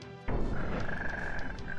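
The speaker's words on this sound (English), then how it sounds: "It's an electric frog too." An electric frog boss in the Fox n Forests video game croaks loudly and steadily after a sudden onset, a dense, buzzing croak with a sustained tonal drone running through it.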